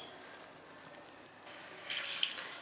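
Running water pours into a pan for puri bhaji, faint at first and then louder and steadier in the last second, with no talking.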